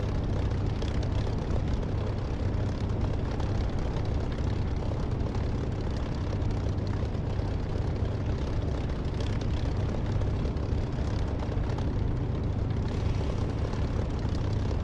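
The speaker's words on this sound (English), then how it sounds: "I'm taxiing out to runway." A DCS flight simulator aircraft taxiing toward the runway, its engine a steady, dense droning rumble with strong low hum, continuous and unchanging throughout without talk.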